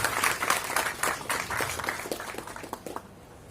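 Audience applause at a formal felicitation ceremony during an interview series event, a dense run of claps that holds steady, then thins and fades out near the end.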